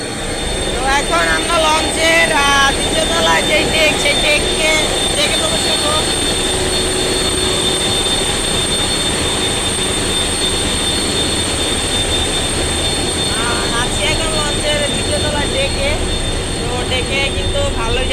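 Engine of a passenger launch ferry running at about 720 RPM, a steady loud drone and hum that fills the whole stretch with no break, while a person talks over it.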